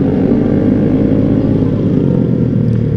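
Honda Vario 150 scooter being ridden, a steady loud engine drone with wind rumble, close up and continuous, no speech.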